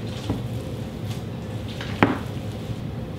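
Meatloaf mixture squished and worked together by hand in a bowl, a steady soft squelching with a couple of sharper wet slaps, close and alone.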